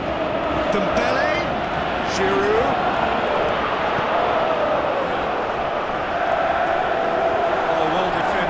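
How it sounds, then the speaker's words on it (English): Stadium crowd noise from a PES 2018 football match fills the background as a steady, continuous roar, with a commentator talking over it throughout. "you can feel and hear how the crowd are reacting to all of this"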